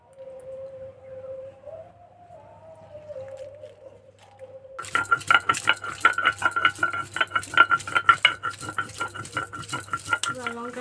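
Green chillies are hand-ground on a grinding stone during a home kitchen preparation of broiler chicken curry, producing repeated close scraping and knocking strokes in a steady rhythm after a quiet start, with a faint tonal hum underneath.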